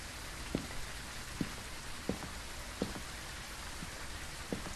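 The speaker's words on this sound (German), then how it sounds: "Es regnet." Rain in the game Phasmophobia hisses steadily at a soft level, with small drip-like taps landing roughly every second over the constant wash.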